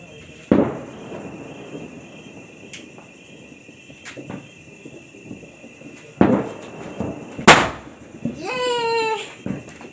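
Diwali firecrackers burst in a few sharp bangs spaced several seconds apart, one loud crack near the end followed by a whistling crackle, with faint voices in the background.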